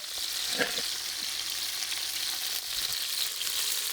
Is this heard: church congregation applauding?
no